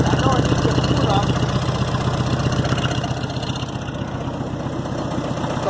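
A Gehl 4400 skid steer loader with a Pinto-type engine that smokes badly and needs a tune-up, idling with a steady, rapid low chugging throb close by, easing slightly later; a voice seems to talk over it.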